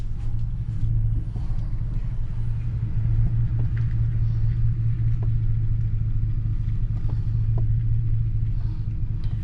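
Car engine rumbling steadily at low pitch while driving through a sharp turn on a village road, a constant close drone with faint clicks and no speech.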